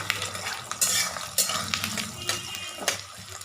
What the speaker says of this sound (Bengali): পেঁয়াজ ভাজছি পেঁয়াজ ভাজতে দিয়ে দিয়েছি